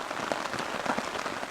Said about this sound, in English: The rain is starting to actually get pretty heavy